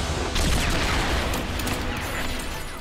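Rapid gunfire from a battle in the video game Xenoblade Chronicles 3 crackles in a dense, continuous volley at moderate loudness, with scattered bursts layered over a rumbling background.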